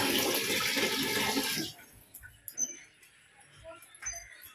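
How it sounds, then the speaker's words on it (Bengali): Water from a household tap runs loudly for under two seconds, then is shut off, leaving faint drips and small handling noises close by. "জলটাকে বন্ধ করে দিয়ে আসি।"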